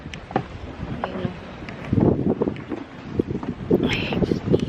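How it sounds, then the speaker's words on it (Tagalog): Strong wind buffets the microphone in loud, rough gusts that rise and fall, with faint voices partly buried beneath the roar. "Sa sobrang hangin. Ay, grabe ang hangin."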